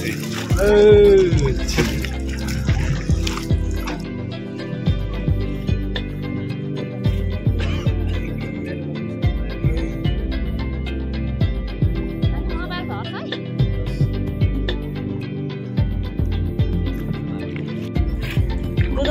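Water slaps and splashes in irregular bursts as a child plays in it, with close, lively sloshing and dripping throughout and voices talking over it.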